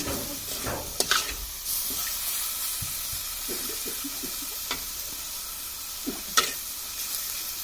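Shredded cabbage bhaji fries in a pan while being stirred, giving a soft continuous sizzle and hiss with occasional scrapes and light knocks of the spatula, close but moderate in level.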